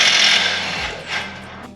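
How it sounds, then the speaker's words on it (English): An impact tool zaps the strut top bolt on a BMW G82 M4, giving a loud close whirring burst that tapers off, then a short mechanical rattle, with no talk. "So we're gonna go ahead and zap this top bolt now."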